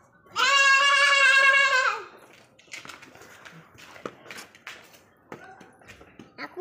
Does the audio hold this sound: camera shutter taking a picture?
no